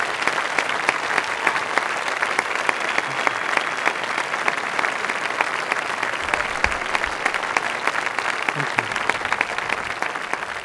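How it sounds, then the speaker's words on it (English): Sustained, enthusiastic applause from a large audience at the Rencontres d'Arles photography festival, dense steady clapping filling the whole stretch without letting up. "a big round of applause for Joël Meyerowitz."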